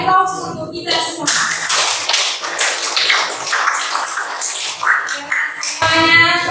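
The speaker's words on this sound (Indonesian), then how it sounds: "mari kita beri aplaus untuk kita semua" Schoolchildren in a classroom break into several seconds of dense, close hand clapping, with a voice speaking just before and after the applause.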